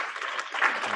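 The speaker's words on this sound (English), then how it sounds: "you get a round of applause" A short canned applause sound effect rewarding a correct answer in a classroom quiz, a brief, even burst of clapping at moderate volume.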